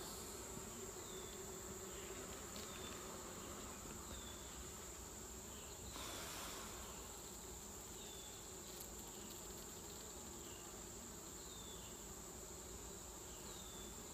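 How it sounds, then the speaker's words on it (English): Steady, dense honeybee buzzing inside an open top bar hive fills the whole stretch, a constant droning hum with no voices, many bees close by. "Can you hear the bees inside the hive?"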